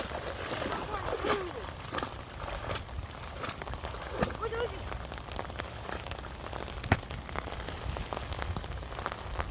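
Rain falls steadily outdoors in a village field while boys look for fish by a net, a dense continuous patter of drops with occasional louder splashes, people talking faintly under it.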